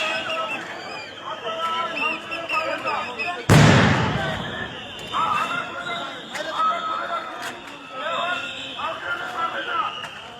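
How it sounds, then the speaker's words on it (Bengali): A police sound grenade bursts with a sharp loud blast during a street clash between police and protesters, followed by crowd noise and shouting that carries on throughout. "পুলিশ কিছুক্ষণ পরপরই সাউন্ড গ্রেনেড নিক্ষেপ করছেন"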